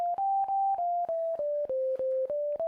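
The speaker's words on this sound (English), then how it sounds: "I actually spent crazy amount of time trying to come up with my own melodies just using this buzzer." A thin PC speaker buzzer plays a simple QuickBasic tune of about ten evenly spaced square-toned notes, each separated by a tiny click-like gap.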